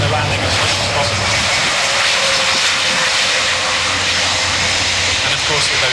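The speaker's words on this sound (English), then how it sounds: "with those 4 engines in reverse thrust" German Air Force A400 transport landing with all four engines in reverse thrust, a loud, continuous, close roar of turboprop engines at an air show, with a voice speaking over it.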